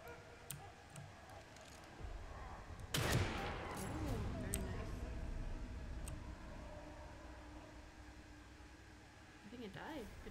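Gunfire in the survival horror game The Evil Within 2: a loud burst of shots around the three-second mark trails off into rattling and ticking, with quieter game sounds before and after.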